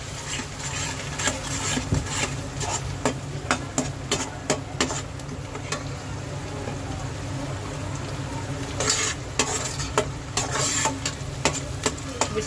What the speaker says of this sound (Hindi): तेल गरम हो चुका है। तो हम डाल दिए कांदा मसाला जो पीसे थे वो।